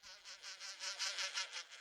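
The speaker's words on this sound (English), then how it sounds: "There are wasps. Paper wasps in Al's house." Paper wasps buzz in a steady, pulsing drone that swells and fades in quick waves, fairly close and moderately quiet, with no voices.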